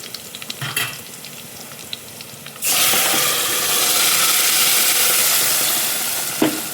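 Ground masala paste tipped into a pan of browned onion and garlic bursts into a loud, steady sizzle after a few quieter clinks and stirring noises, then fries evenly with an occasional scrape.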